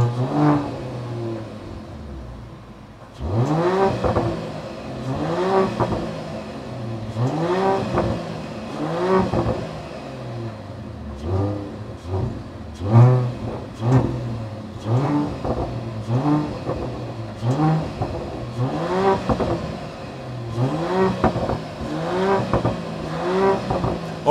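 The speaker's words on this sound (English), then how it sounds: "it's time to listen to the sound of the GLE 53 AMG Coupe facelift from the outside" A 2024 Mercedes GLE 53 AMG Coupe facelift in US spec without a particulate filter, heard from outside, revs repeatedly, its engine note rising and falling in loud, close bursts for the whole stretch.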